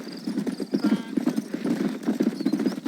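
A horse gallops in the video game Red Dead Redemption, rapid rhythmic hoofbeats drumming close and loud for the whole stretch, with a brief whinny-like tone and no talking.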